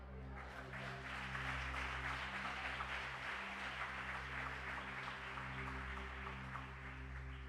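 A church congregation claps steadily, a dense continuous patter of many hands sitting fairly faint beneath a constant low hum.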